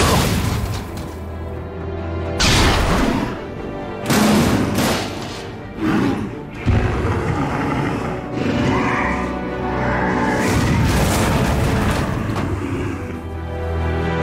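Artillery explosions in the video game Batman Arkham City: a loud, continuous barrage of deep booms and blasts that rise and swell repeatedly, with no gaps between them.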